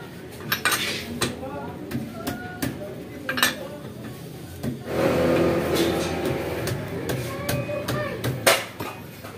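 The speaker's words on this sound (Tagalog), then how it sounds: "So gagamitan mo ngayon ng palo. Papaluin nila dyan." Metal clanks and sharp hammer strikes on a wheel stud or nut during car brake repair, several irregular hits and rattles in a garage with some background noise.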